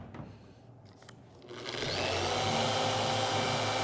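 A power sander wet-sands automotive clear coat with a Rupes X Cut foam abrasive disc. After a few quiet handling sounds it spins up into a loud, steady whirring grind that continues to the end.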